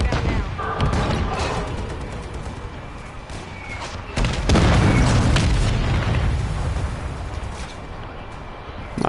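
Mortar strike explosions boom in Warzone 3, a loud dense rumble of heavy blasts that swells sharply midway and continues, with voices faintly under the din.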